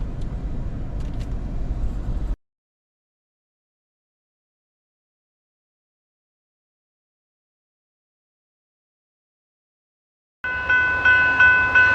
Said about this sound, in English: Here we got the Southwest Chief arriving in Naperville, coming from Los Angeles, heading to Chicago.